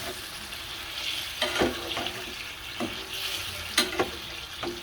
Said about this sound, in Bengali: অনেকগুলো মাছ আমি একসাথে কষিয়ে নিই।